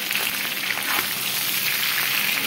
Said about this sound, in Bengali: এবারে চিকেনটাকে আমি হাই ফ্লেমেই রেখেছি, আর 2 মিনিট একটু ভেজে নেব।